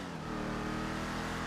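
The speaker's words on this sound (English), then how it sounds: "We got a car pulling up, it sounds like." In a roleplay police video game, a car pulls up with a steady engine drone that stays fairly loud and close through the brief moment.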